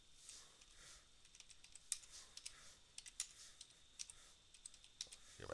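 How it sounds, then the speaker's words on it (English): Quick, light keyboard clicks tapping in uneven bursts, close and fairly quiet over a soft background hiss. "Hear my fingers typing on the keyboard here."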